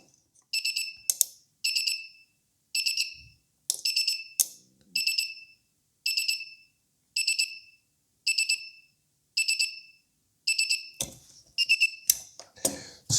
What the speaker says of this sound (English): Oh, that's an alarm.